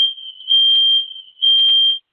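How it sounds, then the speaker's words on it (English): A smoke alarm shrills in loud, steady piercing tones, sounding in two long bursts with a brief dip between them and no voices. "alarm is going off"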